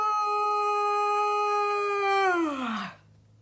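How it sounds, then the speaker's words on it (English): A person lets out one long, drawn-out yawn, a steady held tone that slides downward and fades at the end, sounding alone and close in a children's pajama storytime. "Yawn your sleepies out."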